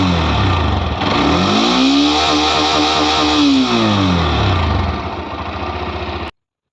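KTM Duke NS motorcycle engine with a mini centre silencer revving up and back down, a loud close exhaust note rising in pitch and falling over several seconds before cutting off abruptly.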